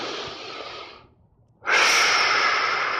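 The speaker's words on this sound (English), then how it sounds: "Learn to control your breathing when you do that." Controlled breathing during the Wing Chun first form, Siu Nim Tao: a long, close exhale tapers off, a brief silent pause follows, then a strong, steady breath comes in and holds to the end.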